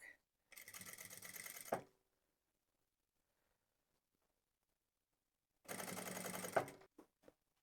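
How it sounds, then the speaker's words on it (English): Sewing machine stitching across a black pom pom hat in two separate bursts of rapid mechanical clatter, each lasting over a second, separated by silence, ending with a few short clicks. "it's hard to see when you're sewing on that black"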